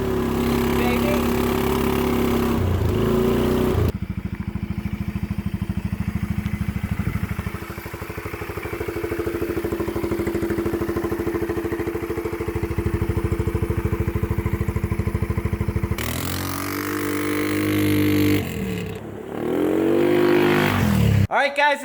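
A mud-caked lawn mower's engine runs steadily at close range with a low harmonic drone, its pitch shifting as it revs, with clattering and water spray, and someone talks over it near the end.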